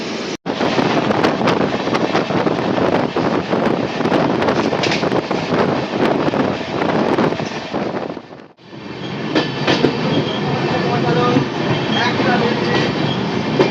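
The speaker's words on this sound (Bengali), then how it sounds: "আমাদের ট্রেন এসে ঢুকলো রানাঘাট জাংশনে" A Humsafar Express passenger train on the Sealdah–Jalpaiguri route pulls into Ranaghat Junction with a loud, steady rolling rumble and rattle heard from on board, broken by one brief near-silent gap partway through before the roar resumes.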